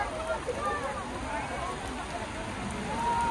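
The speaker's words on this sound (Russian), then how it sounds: "Нас решил дождик еще намочить. С грозой." Rain from a thunderstorm pours steadily over an amusement park, a constant dense hiss and patter with no break, heard up close and moderately loud.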